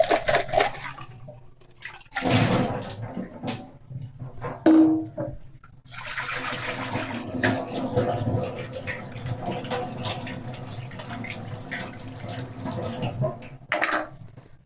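Running water splashes over an RO water purifier PP spun pre-filter as it is rinsed under a tap, with intermittent gushes and a longer steady stream, close and moderately loud.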